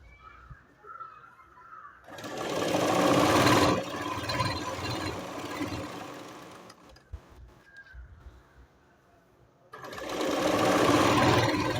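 A sewing machine stitches fabric tape onto a kaftan made from a Kerala set mundu, running in loud close bursts with a quieter stretch of lighter mechanical whirring between them.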